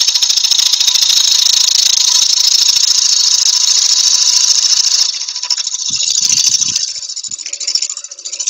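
A milling cutter screams at high pitch while cutting metal, a loud steady shriek for about five seconds that then breaks into intermittent, uneven chatter as the cut eases.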